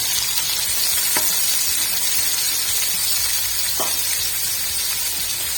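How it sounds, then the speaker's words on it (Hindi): Three chopped onions frying in hot oil for shalgam palak gosht, a loud, dense, continuous sizzle with a couple of brief knocks from a spoon, close by with no talking. "प्याजों को हमने ऑयल के अंदर अच्छे से फ्राई करना है"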